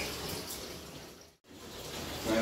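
Tap water runs to fill a bath for a muddy bull terrier, a soft steady splashing stream that cuts out for an instant midway before resuming, with no voices.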